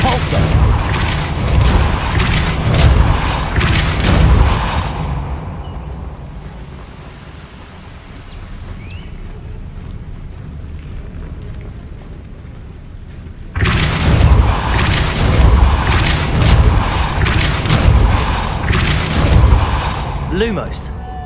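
Depulso spell blasts in Hogwarts Legacy, two long loud broadband bursts of booming, rushing force with a quieter rumbling stretch between them.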